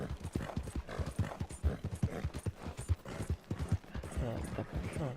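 Horse hooves clip-clopping at a steady walking rhythm with an occasional whinny, ridden in the Red Dead Redemption 2 video game near Blackwater; someone talks over the hoofbeats throughout.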